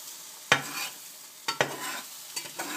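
Scrambled eggs stirred in a frying pan: a soft background sizzle broken by a few distinct utensil scrapes and knocks against the pan, close, in sparse irregular strokes.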